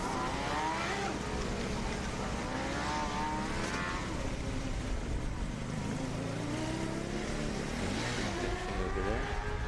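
A Formula SAE combustion race car, Oklahoma State's number 21, drives around the track at a dynamic competition event; its engine drones and rises continuously at moderate distance while faint voices talk underneath.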